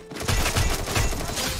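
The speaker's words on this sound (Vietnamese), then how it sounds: "Ở đâu bắn sẵn cho mình vậy ta?" Rapid gunfire in the Free Fire MAX video game crackles in dense bursts, a loud fusillade of overlapping shots that starts abruptly and keeps going to the end.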